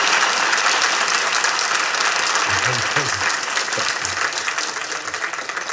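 A live comedy show audience in Ostrava applauds in a loud, dense, unbroken wave of clapping that lasts the whole stretch and fades slightly near the end.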